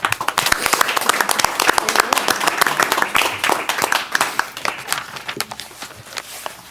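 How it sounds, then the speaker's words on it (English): A room at a board of directors meeting breaks into applause, dense and close at first, then thinning into scattered individual claps toward the end. "Please join me in applauding the work of these folks."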